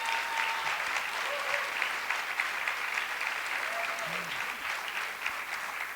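A congress closing ceremony audience applauds steadily for several seconds, a dense wash of clapping with faint scattered voices beneath it.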